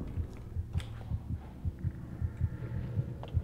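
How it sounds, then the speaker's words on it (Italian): A heartbeat pounds in the horror game Among The Sleep, a steady run of deep double thumps about two per second under a low hum, with no talking. "Perché batte il cuore così?"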